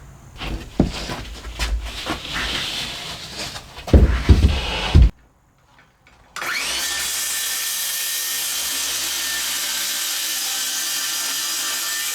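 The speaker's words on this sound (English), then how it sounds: "I'm going to cut some off this side, taper it up." A power saw cuts a piece of wood to taper it during a salvaged mobile home laundry room rebuild, loud rasping bursts followed by a short pause and then a steady, sustained whine.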